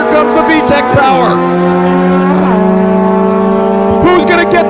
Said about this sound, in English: Reaction times nearly identical. Lee Gong out in front, but here comes the VTEC power